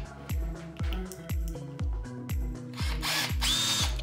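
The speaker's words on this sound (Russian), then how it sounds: "Вставляем ее в патрон и переключаем на режим удара." A rotary hammer drill set to hammer mode fires in short, loud bursts about twice a second, each start with a rising whine and a rapid chattering impact, then a longer continuous run near the end.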